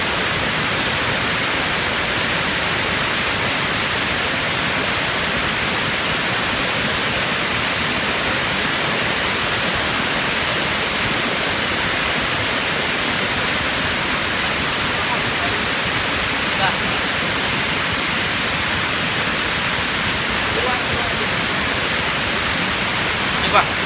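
Steady, dense roar of the Tujuh Bidadari waterfall in Aceh, Indonesia fills the scene, unbroken and loud throughout, like heavy rushing water close by.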